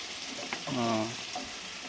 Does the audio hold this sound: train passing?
no